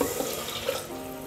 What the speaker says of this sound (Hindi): एक मग जो है ना पानी डालेंगे